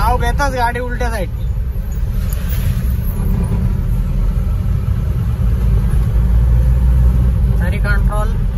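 A car travels on a Mumbai road against the flow of traffic, its engine giving a steady, close, low rumble throughout, with people talking at the start and near the end.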